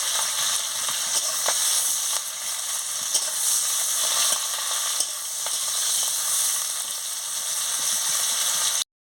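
Chopped onions and green chillies frying in hot oil with five-spice, a loud, steady, close sizzle with occasional stirring clicks, cutting off abruptly at the end.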